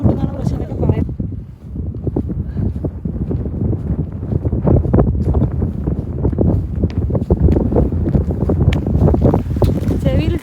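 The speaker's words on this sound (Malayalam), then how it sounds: "കാറ്റ് വരുന്നുണ്ടാവില്ലേ." Strong, steady wind roars and buffets across the summit of Mount Errigal in Ireland, loud and close with heavy gusting rumble that briefly eases early before building again for the rest of the clip.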